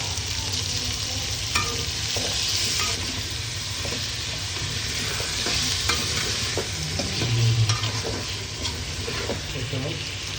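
Small pieces of meat frying in a hot pan, a constant sizzle layered with stirring scrapes and the occasional clink of a spoon on metal, heard up close.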